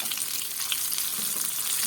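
Steady, crackling sizzle of onion balls frying in hot oil, continuous and close, with no talking.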